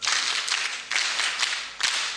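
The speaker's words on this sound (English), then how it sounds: "can we give a more energetic applause?" An audience of teachers at a State House ceremony applauds, a dense wash of clapping from many hands with a few stronger swells, steady and fairly near, with no talk over it.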